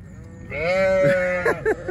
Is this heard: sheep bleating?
yes